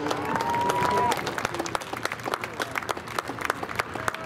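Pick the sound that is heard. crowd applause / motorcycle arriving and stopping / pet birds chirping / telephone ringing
crowd applause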